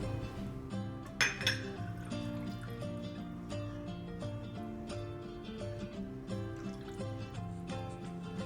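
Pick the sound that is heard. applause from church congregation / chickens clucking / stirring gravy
stirring gravy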